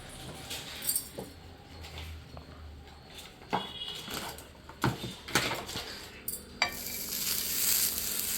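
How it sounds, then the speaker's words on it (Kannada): A cheesy egg mixture goes into a pan, with scattered clinks and scrapes of utensils and then a rising, steady sizzle of frying in the final seconds. "ಚೆನ್ನಾಗಿ ಮಿಕ್ಸ್ ಮಾಡಿ ಇದಾಯಿತು. ಈಗ ಪ್ಯಾನ್ ಮೇಲೆ ಹಾಕ್ತೀನಿ."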